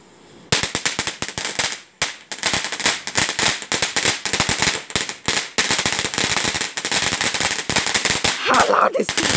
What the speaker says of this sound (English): My sister's going to fire this fireworks in the air.